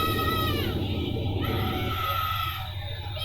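Screaming from riders on a player-designed roller coaster in the video game Thrillville, a loud sustained wail over a dense park-ride roar that eases slightly near the end.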